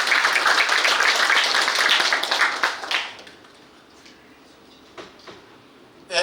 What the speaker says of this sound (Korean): 여러분 또 큰 박수 부탁드리겠습니다.